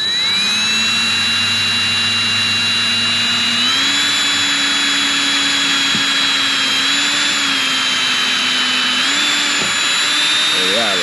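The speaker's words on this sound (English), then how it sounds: "make sure I got the drill going the right way" Power drill boring mounting holes into a Riverstone 39RKFB fifth wheel for a Starlink install, a loud, close, continuous whine whose pitch steps up and down as the load changes, with a brief voice near the end.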